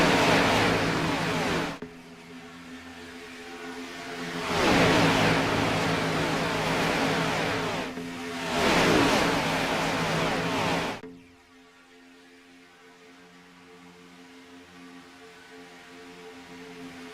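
Race cars roar past at the Daytona Xfinity 300, with loud engine sweeps rising and fading twice before the field moves off, leaving a steady distant drone of engines.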